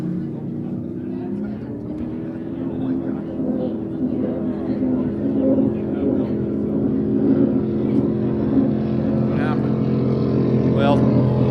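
Race boat engines at the 2019 Parker Enduro roar steadily and loudly, rising slightly over time with wind noise, while a commentator speaks over the sound.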